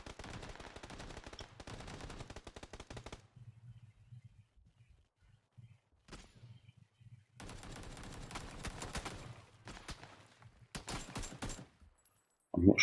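Bursts of rapid automatic gunfire in the PUBG video game, several sharp volleys separated by quiet gaps, with a low steady hum persisting between the bursts and no speech.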